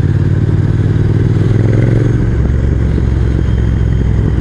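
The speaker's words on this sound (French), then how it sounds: "Là, je freine un peu de l'arrière aussi pour stabiliser la moto." A Triumph Speed Twin motorcycle climbs tight hairpin bends on a mountain road, its engine droning steadily and loudly at close range, with a low throbbing rumble and slight clatter and no talking.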